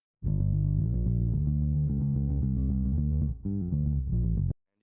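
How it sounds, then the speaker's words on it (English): A clean, warm bass guitar plays a short low-pitched riff of plucked notes, steady and close with no distortion. "you'll have your clean bass part that sounds like this"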